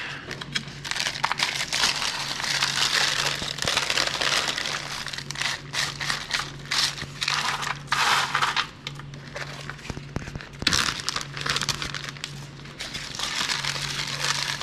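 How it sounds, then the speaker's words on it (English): Frozen chopped sweet peppers are peeled off parchment paper and dropped into a zip-top bag, giving continuous close crinkling and crackling with small irregular pops. "now we're just gonna peel them off this parchment paper and throw them into a zip top bag"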